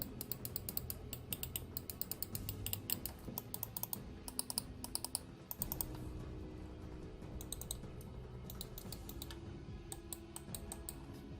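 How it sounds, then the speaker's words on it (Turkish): An Everest SM-G55 X-FORA gaming mouse gives loud, sharp button clicks, pressed up close in quick irregular bursts and clusters with brief pauses, alone without speech. "Ve klik sesleri de gayet gürültülü."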